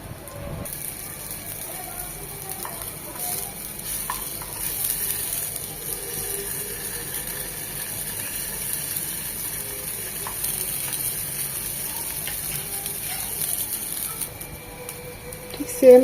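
Chicken mince seekh kebabs cook slowly in a pan in their own marinade oil, giving a quiet, even sizzle that continues for the whole stretch with a few faint clicks and a louder knock at the end.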